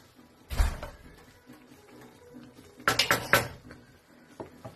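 A metal lid clanks onto a pan of cooking prawns, with an initial knock followed by a cluster of rattling clinks a couple of seconds later, then quieter faint taps.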